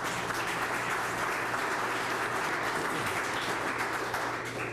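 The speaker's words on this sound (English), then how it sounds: "let's give Casey a round of applause" A crowd applauds steadily for about five seconds, a dense, even wash of clapping with no voices over it.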